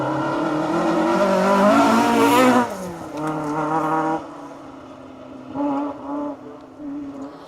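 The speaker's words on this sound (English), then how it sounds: "We saw Jeremy Eason and Mike Reynolds in the Datsun 240Z come through" A Datsun 240Z rally car on a live rally stage, its engine loud and revving near at hand before fading and dropping in pitch as it passes, followed by quieter engine bursts from further off.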